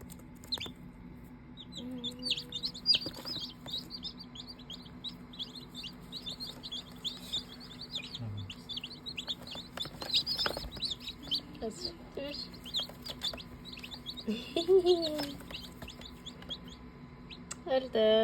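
Newly hatched chicken chicks make a rapid, continuous stream of high, thin peeping chirps, close and fairly loud, while people talk quietly now and then.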